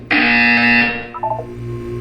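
A loud buzzer sounds in the video game Portal 2, a single harsh tonal blast lasting under a second, then decaying with a faint ringing tail, with no voices.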